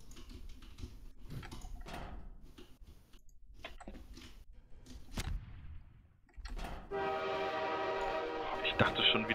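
A train rumbles past in the Trouble in Terrorist Town video game and ends in a loud, sustained horn blast, with gameplay noise and voices underneath.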